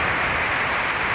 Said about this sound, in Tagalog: Malakas ang ulan, tapos madilim.